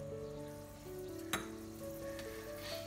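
Mustard seeds and curry leaves sizzling in hot oil for varutharacha sambar, a steady close fry hiss with a faint clink near the middle, no voices.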